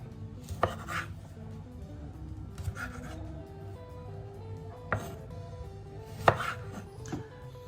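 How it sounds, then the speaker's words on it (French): Small tomatoes being cut into quarters with a knife on a board, several sparse, sharp taps and short slicing sounds spaced irregularly over quiet background. "je vais couper les tomates en quarts."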